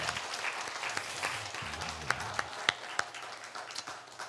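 Church congregation applauding during a Sunday anniversary worship service, with soft, diffuse clapping and a few sharper individual claps standing out, fairly quiet and distant.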